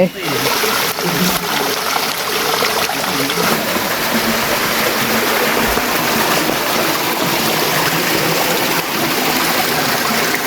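Kao Chan waterfall in Ratchaburi, Thailand, at its fourth tier pours with a loud, steady, broadband rush of falling and splashing water that continues without pause.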